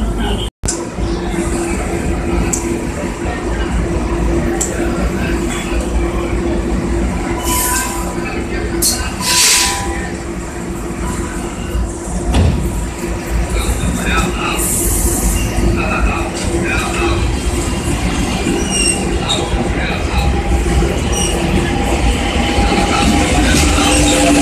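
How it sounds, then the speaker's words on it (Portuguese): A commuter train bound for Japeri rumbles steadily through Méier station with clattering wheels and occasional metallic squeals, loud and continuous, with voices faintly mixed in. "Gente, esse é o trem de Japeri, né?"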